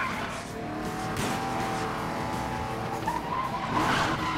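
A car drifts in Need for Speed Most Wanted, tires squealing in a sustained skid over a revving engine, loud and continuous for several seconds.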